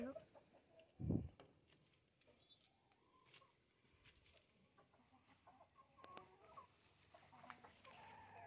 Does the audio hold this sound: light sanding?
no